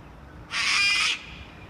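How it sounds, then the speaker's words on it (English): A kookaburra gives a single harsh, raspy call lasting under a second, moderately loud and alone against quiet outdoor background. "Another kookaburra up there."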